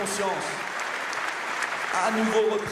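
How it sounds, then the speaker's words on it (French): An audience at a Paris presidential campaign rally applauds continuously in a dense, steady wash of clapping, with a voice and some cheering audible beneath it. "je veux saluer les forces de sécurité, nous avons à nouveau repris conscience, et vous pouvez les applaudir"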